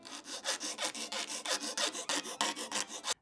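Steel hand file stroking across a wooden violin mold to square its edge, a steady rhythm of about fifteen close, rasping strokes, each a bright scraping burst with short gaps between, heard alone.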